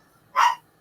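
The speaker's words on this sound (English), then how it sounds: "sorry, my dog is barking." A dog gives a single short bark, close and clear against a quiet room.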